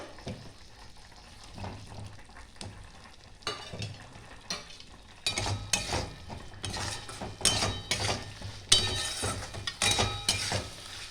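Cut potatoes tipped into a pan of cooked-down spice masala for a Bengali fish-head and potato curry, with scraping, stirring and a rising sizzle that gets louder and busier toward the end. Nobody speaks.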